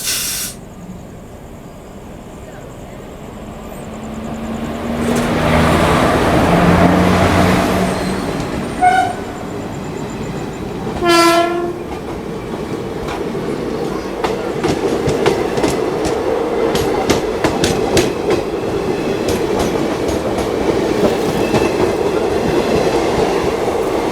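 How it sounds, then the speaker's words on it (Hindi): A local train in India passes nearby at a crossing with a long rumbling roar, rhythmic wheel clatter on the rails and a couple of short horn toots, continuing steadily without speech. "इससे पहले एक ट्रेन का क्रॉसिंग होने वाला है।"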